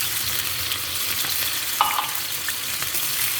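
Sardines frying in a pan give a steady crackling sizzle, with a brief stir or clink midway, close by and with no talking.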